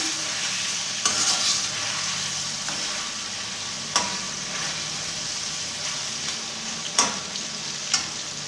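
Charsi chicken karahi frying and sizzling steadily in a pan as it is stirred, with a few sharp scrape and clatter accents from the utensil against the metal, no talking.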